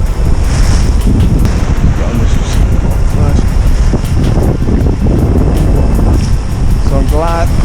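Ocean swell and waves wash against a rocky shore in a bay under strong gusting wind buffeting the microphone, loud and continuous, with a voice briefly speaking in the background.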